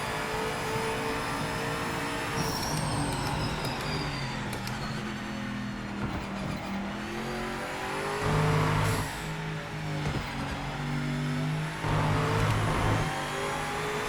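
A race car circles Imola in the Project Motor Racing game, its engine note climbing and dropping through gear changes as it brakes into corners and accelerates out, continuous and fairly close.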